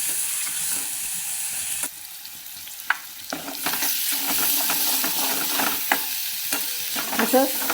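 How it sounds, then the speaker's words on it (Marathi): Ground masala and drumstick vegetable sautéing in a pan, a bright continuous sizzle with frequent spoon scrapes and clinks as it is stirred constantly; a brief word is spoken. "असा छान पर परतून घ्यायचा असा सारखा हलवत राहायचा"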